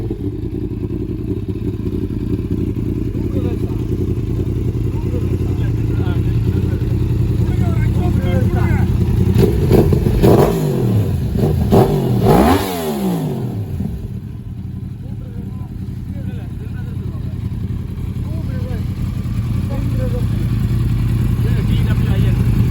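Motorcycle engine being started and revved outdoors, a steady loud running drone with a brief surge of rising and falling revs midway, close up throughout.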